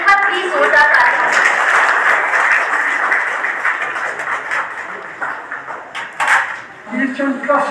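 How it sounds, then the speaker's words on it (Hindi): Clapping from an audience at a commemorative gathering in Dalhousie, Himachal Pradesh rises and continues at steady strength, with a voice speaking over the applause. "एक बार प्लीज जोरदार तालियां।"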